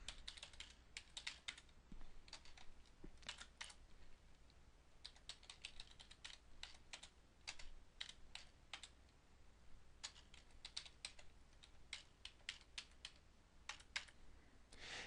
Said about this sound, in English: The first thing we'll do is type a command